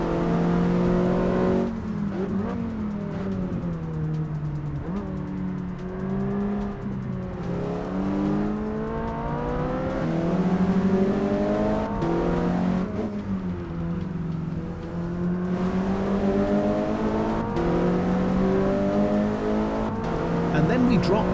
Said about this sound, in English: In the Ferrari, it's a frantic dance on the pedals, blipping the throttle to grab third gear, feeling for that iconic clunk of the F1 gearbox.